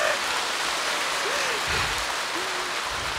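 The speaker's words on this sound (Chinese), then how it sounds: "鼓掌。" An audience applauding at a Buddhist talk: a continuous wash of clapping that stays steady throughout, with a few faint voices audible beneath it.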